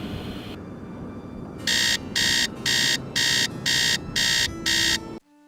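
An alarm clock rings in the video game Nancy Drew: Treasure in the Royal Tower as seven loud, evenly spaced electronic beeps with short gaps between them, ending in abrupt quiet.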